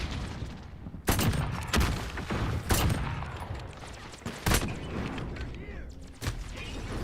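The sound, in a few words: gunfire in a shooter video game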